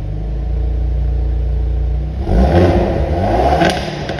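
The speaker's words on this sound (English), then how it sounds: "So this is normal mode." A 2022 Hyundai Veloster N with its exhaust in normal mode idles with a steady low rumble, then revs sharply halfway through into a louder, rougher roar with crackling pops before settling, close up and with no talk.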